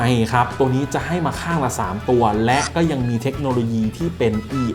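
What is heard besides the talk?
No everyday noises stand out.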